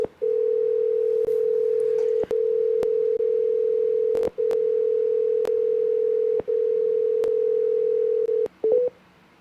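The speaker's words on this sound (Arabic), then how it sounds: "بيرن كده." A continuous phone call tone hums steadily for several seconds, broken by a few short clicks and gaps, then cuts off with a brief burst of beeps.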